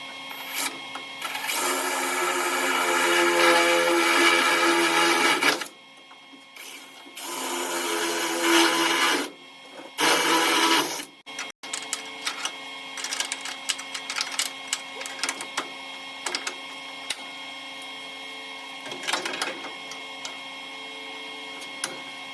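Welding on the rear clip of a 1969 Dodge Coronet gives a steady crackling buzz for several seconds, then shorter bursts separated by pauses, before fading into quieter intermittent ticking and scraping.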